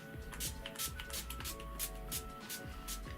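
A few short hissing bursts of setting spray from a pump bottle, Urban Decay All Nighter decanted into an NYX bottle, misted close up and fairly quiet.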